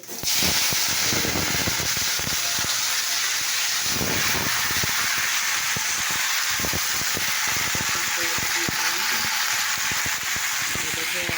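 Panch phoron five-spice, dried red chilli and bay leaf frying in hot oil in a kadai: a loud, continuous close sizzle and hiss, with a voice faintly underneath.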